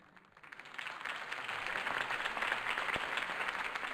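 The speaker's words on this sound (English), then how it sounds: "could have heard that applause" A crowd applauds after a campaign speech in the Batman Telltale Series video game, the clapping swelling from quiet to a steady, moderately loud mass of claps that continues to the end.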